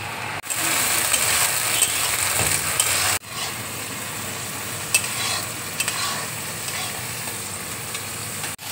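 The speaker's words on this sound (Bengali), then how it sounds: "এবার আমি টমেটোর পিউরি দেখো দিয়ে দিচ্ছি।" Frying onions sizzle steadily in a pan as tomato purée goes in for a jackfruit curry, with a sharp break near the three-second mark before the hiss carries on, broken by light stirring scrapes.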